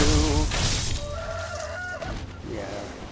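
A chicken in the Sekiro: Shadows Die Twice video game clucks loudly and repeatedly in close, agitated bursts, with no voices over it.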